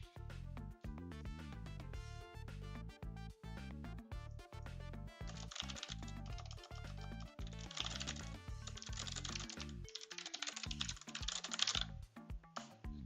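Fast typing on a computer keyboard, a steady, rapid stream of close, crisp key clicks with occasional heavier strokes and brief pauses, quiet and alone without talk.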